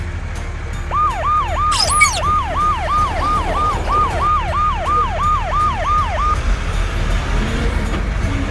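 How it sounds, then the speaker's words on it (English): A police car siren wails in a fast, repeating rising-and-falling pattern, about a dozen quick cycles, fairly loud over a low rumble, with a brief high chirp near the start and the siren stopping before the end. "Black color police car."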